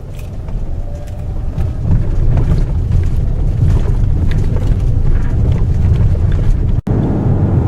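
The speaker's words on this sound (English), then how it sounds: "This little turbocharged 4-cylinder engine is really sweet." Turbocharged four-cylinder engine of a Hyundai Santa Fe Sport 2.0T AWD accelerating, a steady low rumble building with road and wind noise, heard from inside the vehicle.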